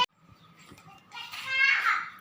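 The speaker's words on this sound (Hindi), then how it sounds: "और बाहर बच्चों का शोर आपको दिखाई सुनाई दे रहा है" Children playing and shouting outdoors, high excited voices rising toward the end of a short, fairly faint stretch.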